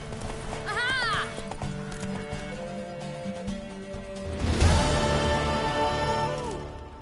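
A horse in the video game The Witcher 3 whinnies sharply, then its hooves pound in a fast gallop that swells louder midway, with game music underneath.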